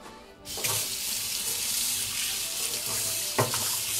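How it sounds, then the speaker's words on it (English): Running tap water pours steadily into a kitchen sink as a knife is rinsed, a continuous close hiss with a couple of brief clatters and splashes. "Washing the knife."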